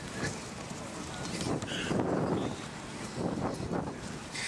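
Wind gusting across the microphone at an outdoor 3D model helicopter flying contest, a continuous rushing rumble that swells and eases, with a voice faintly present underneath.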